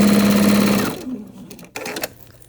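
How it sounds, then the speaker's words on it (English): A sewing machine runs fast and loud, stitching quilt block pieces together, then stops about a second in, followed by quiet handling clicks and rustles of fabric close to the listener. "now I'm going to sew this together and make sure it's all nice and straight."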